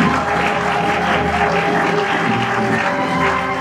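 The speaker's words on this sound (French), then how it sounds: "Applaudissons pour le Seigneur." A church cell meeting congregation applauding for the Lord, steady dense clapping throughout, loud and close, with no pauses.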